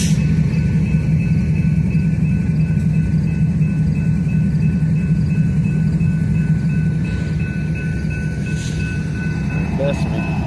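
Trains roll through a rail yard at night with a steady low rumble and faint high whining tones that run unbroken, with the noise level dipping slightly toward the end.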